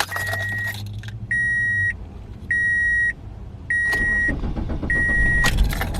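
A car fitted with a small lawn mower battery is started from inside at a truck stop. Repeated electronic chimes ring in evenly spaced bursts, and an engine catches and settles into a strong idle near the end.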